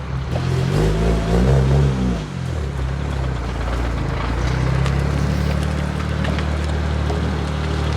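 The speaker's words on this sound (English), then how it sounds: "I'm gonna just drive the car in first gear, just roll it all the way to his house" A BMW 335i with a broken welded differential rolls slowly in first gear, its engine droning low and steady with a brief rise and fall in pitch early on, close and continuous.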